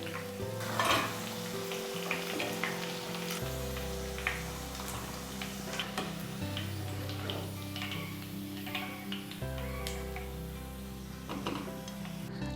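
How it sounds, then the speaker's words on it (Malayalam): Chicken pieces for dynamite chicken frying in hot oil, with a soft continuous sizzle, occasional ladle clinks and stirring, and a low background hum underneath, no speech. "അപ്പോൾ നമ്മൾ ചിക്കൻ വറുത്ത് കോരിയേക്കാണ്"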